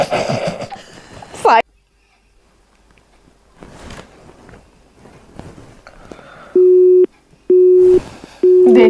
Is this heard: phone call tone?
yes